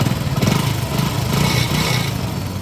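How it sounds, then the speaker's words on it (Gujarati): A rebuilt Hero Honda HF Deluxe motorcycle engine runs steadily close by, a fast, even single-cylinder putter with a slight waver in pitch, alone without talk. "ગાડીનો અવાજ પણ તમને સંભળાવું, તમે જોઈ શકો છો. આ ગાડીનો અવાજ તમને સંભળાતો હોય છે."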